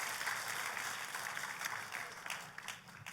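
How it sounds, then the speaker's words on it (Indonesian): Congregation applause for God during a church sermon, a continuous wash of clapping from a large crowd, faint and somewhat distant, holding steady before tapering slightly at the end. "Tepuk tangannya yang paling meriah buat Tuhan kita."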